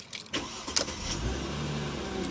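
A Mercedes W203 car with an electrical fault cranks and its engine starts, a brief starter burst followed by a steady low idle hum close by, with no talking.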